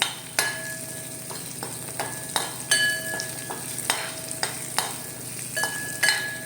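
Garlic and chillies sautéing in a pan for a jackfruit cutlet, a steady sizzle broken by repeated sharp clinks and scrapes of a spoon stirring against the pan.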